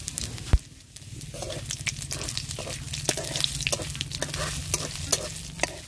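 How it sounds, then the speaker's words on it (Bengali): Bay leaf, dried chilli and cumin seeds sizzle in hot oil, a steady crackling fry with scattered pops and the scrape of stirring, close and continuous. "ফোড়নে দিয়ে দেবো তেজপাতা আর শুকনো লঙ্কা, সামান্য পরিমাণ জিরে দিয়ে দেবো"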